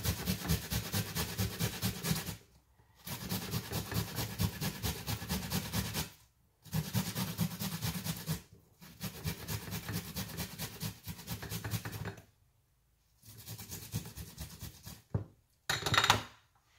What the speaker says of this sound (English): I'm going to be using the same side to grate the ginger.